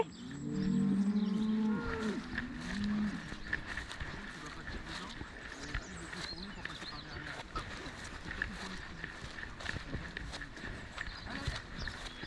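Cattle being herded along a muddy farm track, with a loud close moo at the start and more lowing further off, among footsteps and people calling out.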